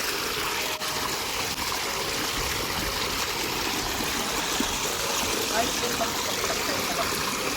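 Steady rushing of water flowing through a stream in a rural village, a continuous close broadband wash with no breaks, a faint low engine-like hum underneath.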